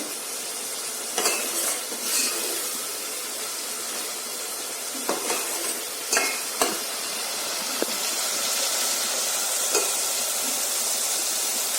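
Masala for paneer bhurji fries in a pan with a constant sizzle and hiss, broken by scattered scraping and clinking strokes of a spoon stirring against the metal, close and without speech.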